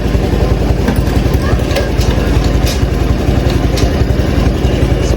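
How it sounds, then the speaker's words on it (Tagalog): A motorcycle engine idles up close with a loud, steady, rhythmic low putter that holds evenly throughout. "So ito yung motor natin."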